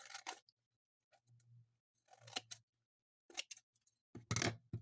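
Scissors trimming excess paper from a decoupaged junk-journal embellishment, giving several short crisp snips in separate bursts over a few seconds, close and fairly quiet with pauses between cuts.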